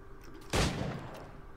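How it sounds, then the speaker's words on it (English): A single pistol shot in Assassin's Creed 4 Black Flag, a sharp close bang that fades into a short lingering echo against quiet background ambience. "Press Y to shoot the highlighted target with your pistol."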